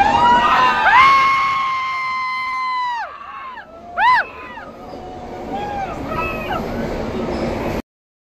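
Passengers on a train shout and cheer as it runs through a mountain tunnel, their voices echoing. Long, high whoops and screams rise and fall over a rumbling background, with a loud burst midway before the noise cuts off.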